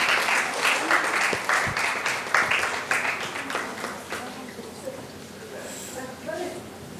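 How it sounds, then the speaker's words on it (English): Audience applause for dignitaries at an inaugural ceremony, strong and dense at first, then thinning into scattered claps and fading over several seconds. "Of applause to all our dignitaries, to all our esteemed dignitaries today."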